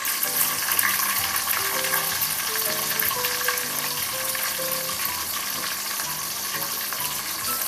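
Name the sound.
green chilies and onions sautéing in a pan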